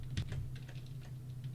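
Keys clatter on a computer keyboard as a command is typed into AutoCAD drafting software, a quick run of soft clicks over a steady low hum.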